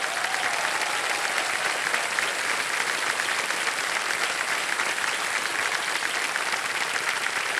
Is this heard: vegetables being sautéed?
no